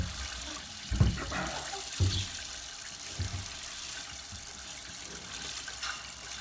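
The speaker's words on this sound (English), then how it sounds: "So you're just trapping the milk, and then you're squeezing it out." Milk squirting into a 3.5-gallon plastic bucket as a cow is milked by hand, heard as a few separate splashy spurts about a second apart over steady background noise.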